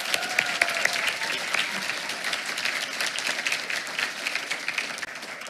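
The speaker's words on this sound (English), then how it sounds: "Let's give her one more round of applause." Audience applause at a school district board meeting, many hands clapping in a continuous, even round for a few seconds, fairly close and filling the room, then tapering slightly at the end.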